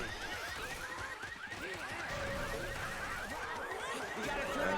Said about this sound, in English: They're going to go ahead and trigger the car alarm as they walk up to the gate